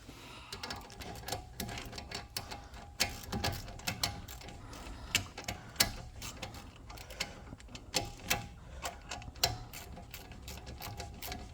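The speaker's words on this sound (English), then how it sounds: "So you can get our tool and just tighten it all the way." Ratchet tool tightening a bolt while refitting a painted brake caliper, a rapid series of sharp mechanical clicks in uneven bursts, close and moderately quiet.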